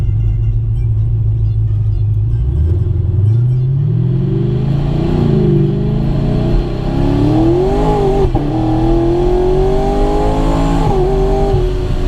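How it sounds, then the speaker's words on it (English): A forged LT1 V8 in a Camaro SS rumbles loudly and revs up and down through several downshift blips, with a few sharp pops breaking through the deep exhaust tone. "if I downshift and I was giving it some gas, it gives a nice little blurps"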